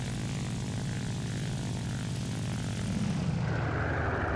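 Soviet La-5 propeller fighter in the War Thunder video game, its piston engine droning loud and steady throughout, with a slight shift in tone near the end.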